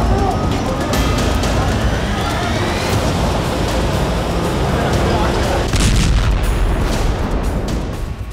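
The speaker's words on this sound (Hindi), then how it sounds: "और तभी एक जोरदार धमाका होता है।" A powerful blast erupts in Jenin camp with dense, crackling rumble and echoing booms that roll on and gradually fade.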